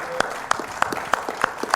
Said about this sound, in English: Let's give Mayor Pratt a round of applause.